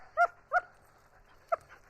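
A Malinois dog whimpers in three short, high yelps, two close together and a third after a pause, fairly faint and alone.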